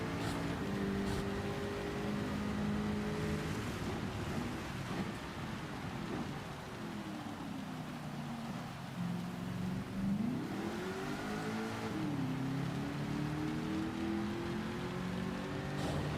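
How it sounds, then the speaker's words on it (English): Heavy rain hisses steadily in the Gran Turismo racing game at Dragon Trail Gardens, a dense wash under the droning, shifting note of a race car engine that dips and rises through gear changes. "Here comes the very heavy rain now."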